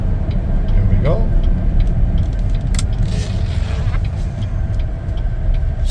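A 2019 Chevrolet Traverse AWD LT on a test drive, its steady engine and road noise a constant hum throughout, with a brief soft chime, while a person talks over it.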